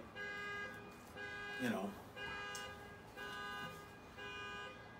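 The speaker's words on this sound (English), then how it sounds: "that car alarm going off" A car alarm wails nearby in repeating electronic tone bursts, steady and looping, while someone talks over it and a short sweeping tone cuts in partway through.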